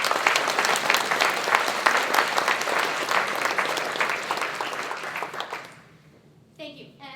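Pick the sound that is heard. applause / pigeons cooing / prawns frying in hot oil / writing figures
applause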